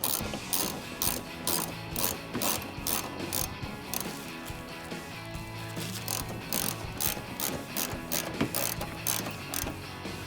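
A hand ratchet turns a headlight mounting bolt on a 2016-2021 Toyota Tacoma SR5, giving rapid, close clicking runs in repeated strokes with short pauses between sets and no speech.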